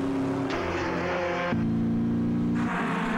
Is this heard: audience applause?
no